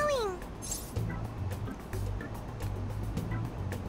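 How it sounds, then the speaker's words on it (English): A short gliding cat meow from Persona 5 Royal opens the moment, coming from a stuffed toy cat, followed by a low steady background hum with people talking. "I heard it meowing."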